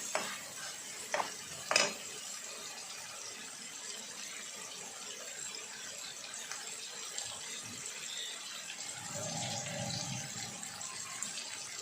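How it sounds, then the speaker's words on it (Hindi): A spoon slowly stirs egg curry in a pan, giving a few clinks early on over a steady soft sizzle, with a low bubbling or pouring swell near the end. "तो हम इसकी अच्छे से बुनाई करेंगे, पर चम्मच थोड़ा ध्यान से चलाएंगे"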